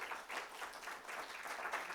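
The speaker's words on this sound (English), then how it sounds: "I want to have another round of applause for our two presenters" An audience at a chamber education forum gives a round of applause for two presenters, a fairly soft, continuous patter of clapping with slight swells throughout.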